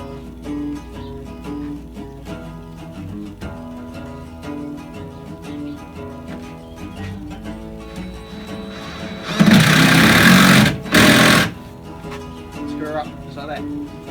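Power drill fitted with a 90-degree angle attachment drives a screw into a wooden guitar stool frame, one loud whirring burst of about two seconds with a brief pause, amid quieter background sound.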